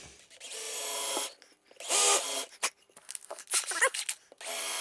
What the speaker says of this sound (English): I'll just countersink this so I can put a screw in the bottom here.